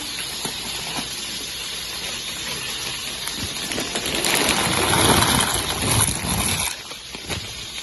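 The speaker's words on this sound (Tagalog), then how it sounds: "kumukulo na tong ating tubig, ihuhulog na natin tong ating pasta." Steady hissing roar of water at a rolling boil in a pot for pasta, swelling louder midway with bubbling texture, close by and without talk.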